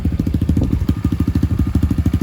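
A 2021 SSR dirt bike engine idles in neutral close by, a rapid, even putt-putt pulse of low thumping exhaust beats with light mechanical clatter, no voices.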